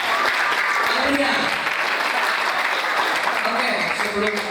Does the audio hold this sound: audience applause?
yes